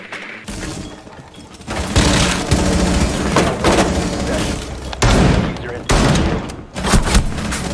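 Rapid bursts of gunfire and sprayed shots from a Rainbow Six Siege match ring out loud and dense throughout, with heavy thuds and impacts layered over voices talking during the firefight.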